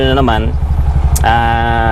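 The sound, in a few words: Bajaj RE auto rickshaw engine running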